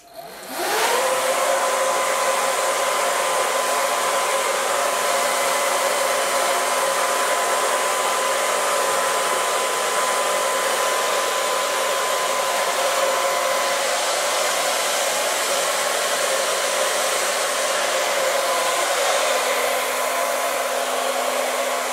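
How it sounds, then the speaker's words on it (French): A hair dryer switches on and blows steadily with a loud, constant whirring rush, continuing unbroken for the whole stretch, drying rinsed parts of an old weight-driven clock. "je vais le faire au sèche-cheveux"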